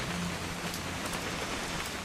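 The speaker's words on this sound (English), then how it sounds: "It's gonna rain the whole weekend" Steady, close rain hisses and patters on surfaces in the video game What Remains of Edith Finch, a dense, even downpour with no break across the short stretch and no voices.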